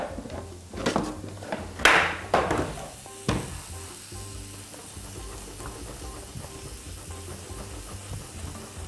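Red pepper frying in a pan with ham and oil, with a few sharp stirring clatters and hisses early on that then settle into a soft, steady sizzle.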